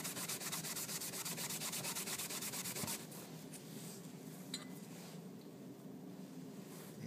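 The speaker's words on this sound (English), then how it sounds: "it's not very hard to remove with some steel wool" Steel wool scrubs rust off a piece of iron in quick rhythmic strokes for about three seconds, close and steady, then gives way to quieter, scattered rubbing.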